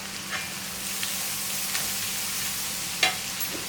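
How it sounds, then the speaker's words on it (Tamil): Garlic and a green chili broken in half frying in a pan of oil for a chicken fry, with an even, close sizzle and a few small pops and stirring clicks. "இதில் ஒரே ஒரு பச்சை மிளகாயை 2ஆக உடைச்சிட்டு போட்டுக்கலாம்."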